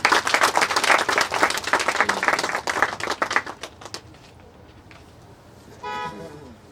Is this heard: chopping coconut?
no